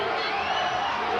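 Sellout crowd cheering at the Apple Bowl during a 1997 Canadian junior football championship game between the Regina Rams and Okanagan Sun, a loud, steady wash of distant roaring and whooping with no break across the moment.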